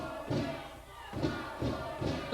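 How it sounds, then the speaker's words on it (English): A wrestling crowd at an NWA Wildside TV title match chants in rhythmic bursts, loud rising yells repeating about every half second to second, mixed with thumping claps in a reverberant arena. "The crowd is yelling for 5 more minutes"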